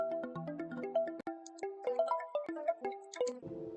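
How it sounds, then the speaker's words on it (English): A bright synth pattern loops in Logic Pro X, with quick plucky ringtone-like notes in a bouncy melodic run. "Sounds like a ringtone."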